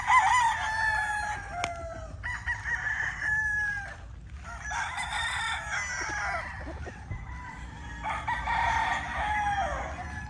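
Roosters being groomed crow repeatedly, about four long, loud, close cock-a-doodle-doo calls in a row with short gaps between them. There is no talking.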